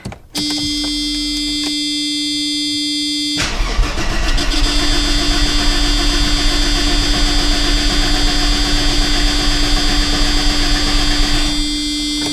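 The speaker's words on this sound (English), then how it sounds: "let's see if the engine turns over" An old, moldy Mercedes engine cranks with a starter buzz, then catches into a steady, loud running drone that continues to near the end, with no talking.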